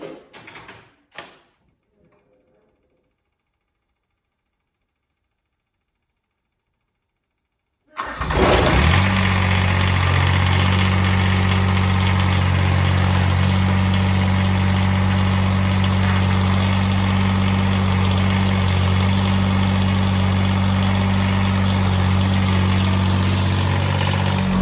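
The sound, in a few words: John Deere 332 diesel tractor engine cold start and idling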